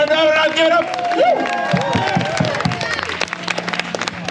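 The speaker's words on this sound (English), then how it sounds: "Let's give him a big round of applause, our team." An outdoor whip show crowd in Alice Springs, Australia, claps and cheers. A voice talks over the opening moments, then scattered, uneven clapping and crowd noise fill the remainder at close range.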